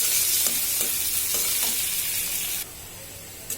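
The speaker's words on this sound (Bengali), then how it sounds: "এবার আমি পেঁয়াজ রসুনটাকে ভেজে নেব লালচে করে" Onion and garlic sizzle steadily in hot oil in a pan, cooked until reddish for a hilsa fish head and Malabar spinach dish; a dense, close frying hiss with light stirring that drops to a quieter sizzle near the end.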